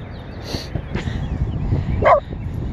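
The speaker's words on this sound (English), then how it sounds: "Why are you barking?" A pet dog barks in short sharp bursts at a park, a few yips spread over a couple of seconds amid outdoor background noise.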